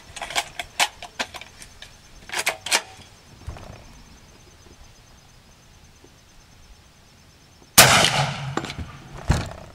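Shots at an outdoor shooting range: a few scattered sharp reports early on, then one loud close blast near the end followed by a ringing tail, with quieter ambient gaps between.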